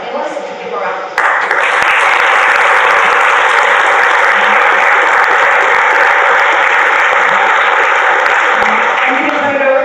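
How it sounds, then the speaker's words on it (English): A breakfast-event audience gives panelists a round of applause, loud sustained clapping that swells after the first second and holds evenly to the end. "give them a round of applause"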